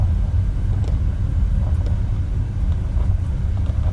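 An Airbus A320neo on the ground after landing in a flight simulator, with reverse thrust and spoilers deployed, gives a steady, heavy low rumble of engine roar that stays constant and close, with no voices.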